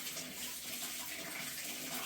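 Water runs steadily from a tap in an Airbnb property in Puerto Rico, a close, even hiss and splash throughout the short moment with no talk.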